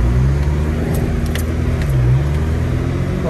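A car pushes through deep snow on a snowy morning drive around Big Bear Lake, California, its engine a steady, close, loud drone with low rumbling throughout.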